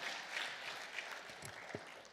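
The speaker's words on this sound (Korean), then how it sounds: "하나님께 영광의 박수 올려드립니다" A church congregation claps in welcome, a brief burst of moderate applause in a worship hall that thins and tapers off by the end.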